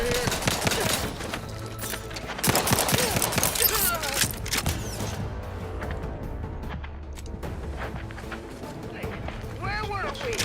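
Bursts of gunfire in The Outer Worlds 2, rapid volleys crackling over game sound and background music, with someone talking over parts of the action.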